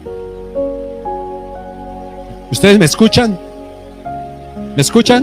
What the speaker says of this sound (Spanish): ahora vamos a tener lío porque está lloviendo bastante fuerte